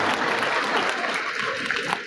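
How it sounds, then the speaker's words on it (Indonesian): An audience at a regional tax award ceremony applauds loudly and continuously, a dense wash of clapping hands filling the hall for the full stretch. "Tepuk tangan dulu semua, tepuk tangan."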